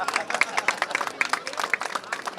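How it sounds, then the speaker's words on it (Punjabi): A theatre audience claps steadily and fairly loudly for a Punjabi film's producers, a dense, continuous patter of many hands with no voices on top. "ਇਹਨਾਂ ਲਈ ਤਾੜੀ ਹੁਣ"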